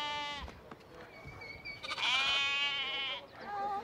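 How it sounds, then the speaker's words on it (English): Sheep and lambs bleat on a New Zealand farm, several wavering calls close by, one long loud bleat overlapping others near the middle, with soft farm background between them. "Some of the sheep need a little help until they're ready for that grass-only diet."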